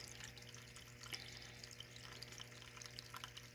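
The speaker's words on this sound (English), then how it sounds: "I have a water fountain on my desk." A small desk water fountain trickles steadily and softly, a constant close wash of running water with a faint low hum beneath, no voices.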